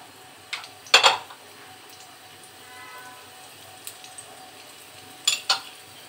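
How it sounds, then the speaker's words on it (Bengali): Chopped small onion frying on medium heat in a pan for sour lentils made with green mango, a low steady sizzle broken by a few sharp utensil clatters and stirring scrapes, no voices. "এখন আমি পেঁয়াজ কুচি দিয়ে দিচ্ছি, ছোট সাইজের 1টা পেঁয়াজ কুচি আমি দিয়ে দিচ্ছি।"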